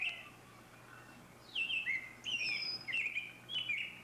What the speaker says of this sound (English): we are welcomed once again by the clear notes of the robin